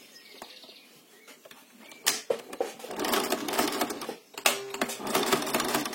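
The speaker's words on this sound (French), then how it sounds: "On va coudre un petit point d'arrêt sur l'arrière" A sewing machine stitches elastic onto a fabric mask. After a quiet start and a couple of sharp clicks, it runs in two bursts of rapid, close needle clatter, separated by a short pause, with no talking.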